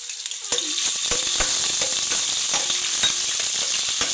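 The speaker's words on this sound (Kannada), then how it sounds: "ಎಣ್ಣೆ ಕಾದಿದೆ, ಶುಂಠಿ ಬೆಳ್ಳುಳ್ಳಿ ಪೇಸ್ಟ್ ಹಾಕ್ತಿದ್ದೀನಿ." Ginger garlic paste hitting hot oil in a kadai, a sudden loud sizzle that stays steady and close, with scattered spatters and light stirring taps, no voices.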